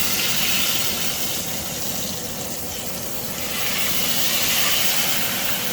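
A chicken fried steak sizzles loudly in a frying pan just after being flipped. The hiss is steady and close, dips a little in the middle and then swells again, with no other sound.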